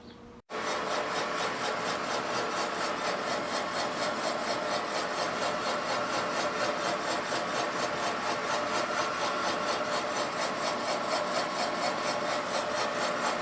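Boring bar cutting through a rusty Suzuki TS185 cylinder, a steady, continuous grinding scrape with a faint rhythmic chatter that starts abruptly after a brief quiet moment and runs on without talk.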